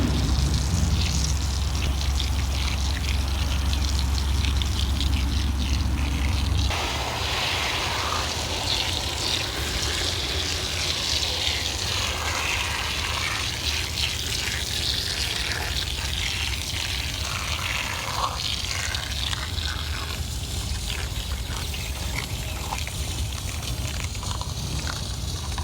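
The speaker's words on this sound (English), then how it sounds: "now we're going to move on to the front using the P&S Brake Buster" P&S Brake Buster foam sprays from a small pressurized can onto car wheels and tires with a continuous close hissing rush. A louder low-end burst opens the sequence, then a steady spray hiss lasts over twenty seconds.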